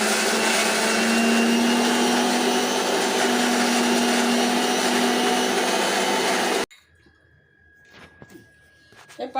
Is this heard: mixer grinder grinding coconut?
yes